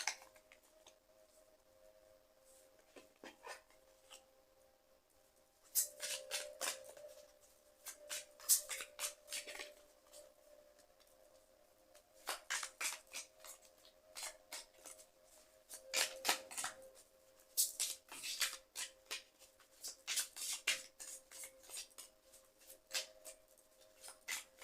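Tarot-style cards shuffled and drawn for a card reading, producing repeated bursts of soft riffling and flicking in irregular clusters with short pauses, close and fairly quiet against a faint steady hum, with no talk.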